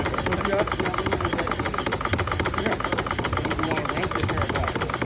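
A governor-controlled engine runs at a steam-up show in New England, its steady, rhythmic beats close and continuous, with faint voices in the background.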